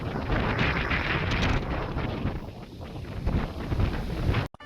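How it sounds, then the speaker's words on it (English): Steady wind roars across an exposed spot in the Lake District, loud broadband buffeting on the microphone that holds nearly constant before cutting off abruptly at the end. "Bit windy."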